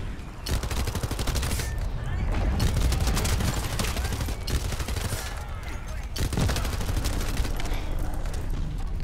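A submachine gun in the shooter game The First Descendant fires in rapid, loud, sustained bursts, nearly continuous with a brief break partway through.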